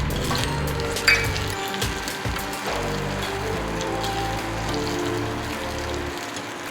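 Split green chillies and chopped dried red chillies fry in hot oil, making a steady, dense sizzle and crackle that continues evenly throughout, with a brief louder pop near the start.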